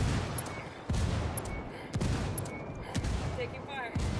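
Gunfire in the tactical shooter game Ghost Recon Wildlands cracks in sharp, repeated shots roughly once a second, with quieter bursts between them, all at moderate level.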